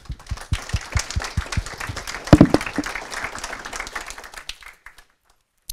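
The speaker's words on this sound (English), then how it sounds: "Give her an applause, please." A conference audience at PyCon Sweden claps for several seconds before a talk on test-driven development, a dense patter of hands that swells, then thins out and stops abruptly into silence.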